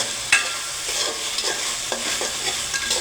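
Taro (kochu) stir-fried bhuna style with plenty of garlic, with a steady sizzle and frying crackle and repeated scraping stirs of a spatula in the pan, fairly close, with no talking.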